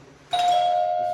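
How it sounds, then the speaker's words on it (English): An electric bell on a basic wired circuit starts ringing when its switch is pressed, a sudden, steady, buzzing electric ring that cuts in after a brief pause and holds at an even level. "press the bell switch"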